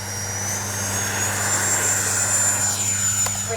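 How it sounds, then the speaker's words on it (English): An FMS Yak 130 70mm RC electric ducted-fan jet taking off, a steady loud whine and roar with a high tone, close by outdoors, without voices. "Taking up the Yak 130 from FMS."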